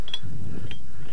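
Parts are screwed together on a homemade mini tractor, giving a couple of brief, sharp metallic clicks and creaks over a faint mechanical background in a short, quiet moment.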